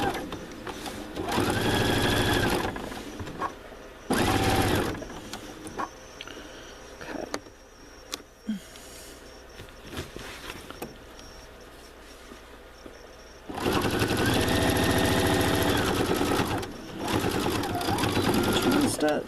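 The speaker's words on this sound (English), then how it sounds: "Stitch, front stitch, and then use my button to cut the threads" A sewing machine stitches a custom tote bag in fast, loud whirring bursts, with a long run at the start and another near the end, separated by quieter stretches of handling and faint clicks.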